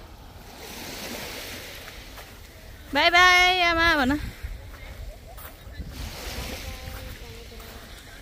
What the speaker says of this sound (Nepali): बाई बाई समुद्र अर्कोचोटि भेटौँला